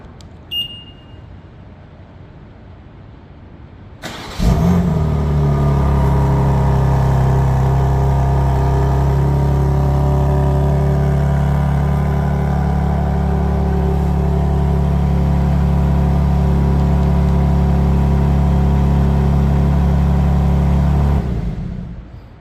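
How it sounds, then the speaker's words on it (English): A 2023 BMW M2 G87 in Toronto Red fires up on a remote cold start, a loud burst at about four seconds settling into a steady, deep idle rumble that holds close and constant for over fifteen seconds before cutting off. "so that sounded pretty good for remote engine start, cold start."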